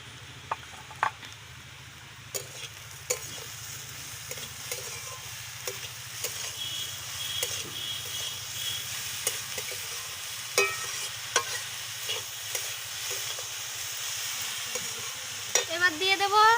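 Grated carrot fried with sugar in a pan for carrot halwa sizzles softly and steadily, with repeated sharp scrapes and clicks of a spoon stirring against the pan.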